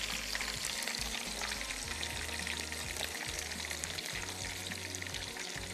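Pieces of chicken charga sizzling and crackling steadily in hot oil, with a dense spattering hiss from moisture in the meat and occasional low clatter, heard up close and without speech.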